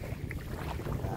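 Strong wind buffets a small fishing boat at sea, a rough continuous rumble of wind noise on the microphone with faint water sounds, lasting about a second with no talking.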